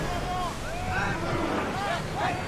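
A sailing ship at sea in Assassin's Creed Odyssey, with rushing wind and churning waves filling the soundscape, steady and fairly loud, as voices call out over it.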